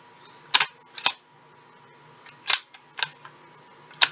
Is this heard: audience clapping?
no